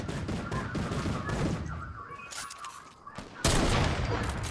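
Rapid, loud gunfire erupts in bursts during a squad match in an online shooter video game, as players fire on an enemy turret on a mountain; the volleys continue, pause briefly, then resume harder at the end.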